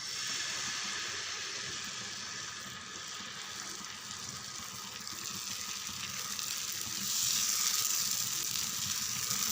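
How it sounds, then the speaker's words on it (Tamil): Dosa batter spread on a hot griddle stone, giving a soft, continuous sizzle and hiss that grows slightly louder toward the end. "இங்கே பாருங்கள், தோசை தான் ஊற்ற போகிறேன். கல் நல்லா சூடாக ஏறிடுது."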